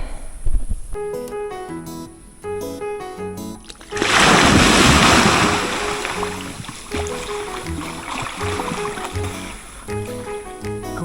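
Water splashes loudly and close by as people swim in a lake, with a burst of heavy sloshing after some lighter intermittent splashes, under a faint high-pitched background whine.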